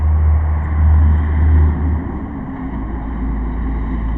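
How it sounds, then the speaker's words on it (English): Steady road traffic rumbles nearby, a continuous low engine drone that swells and eases as vehicles pass. "Nothing but car noise."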